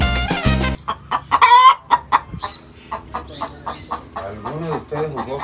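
Roosters crow repeatedly, close and loud, with rising and falling calls mixed with clucking. Voices can be heard in the background.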